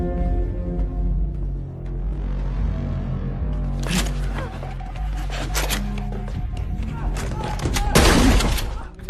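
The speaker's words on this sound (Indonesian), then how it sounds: "Alhasil, Yongdong pun menembak guru tersebut" Gunshots ring out in a shooting scene from the Korean drama Trigger, several sharp cracks and thuds rising over tense background music and voices.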